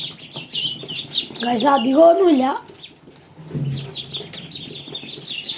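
A group of small ducklings peeps in a steady stream of thin, high cheeps. Partway through, a person talks close by over the peeping.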